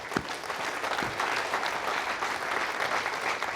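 An audience at a Vega rocket launch event applauds the Colleferro team, a sustained, fairly full round of clapping with a couple of sharp thumps near the start.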